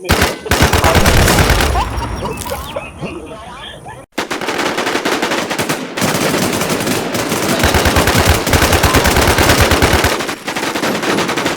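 Rapid video game gunfire in dense automatic bursts, loud and close, with a short pause and a brief break partway through; a voice talks excitedly over part of it.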